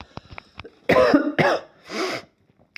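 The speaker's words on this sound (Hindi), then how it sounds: "खांसी वगैरह बीच में आ जाती है" Several short throat-clearing hacks, then three harsh, loud coughs close to the microphone, with silence between.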